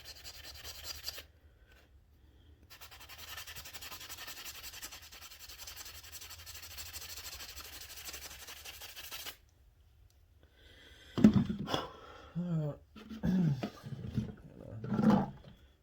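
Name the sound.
sanding homemade crankbait lure with 220 grit sandpaper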